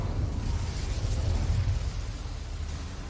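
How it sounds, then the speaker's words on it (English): The Incendio fire spell is cast in Hogwarts Legacy on PC to light flames: a low, rumbling burst of fire that swells and roars continuously, then eases slightly toward the end, with no voices. "Incendio should be enough to light these flames."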